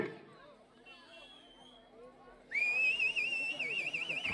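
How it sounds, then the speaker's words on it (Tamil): At a jallikattu bull-taming event, quiet crowd chatter gives way to a loud, shrill, wavering whistle that carries over the babble of the gathering. "சீட்டி அடியுங்கள், கை தட்டுங்கள், வீரர்களை உற்சாகப்படுத்துங்கள்."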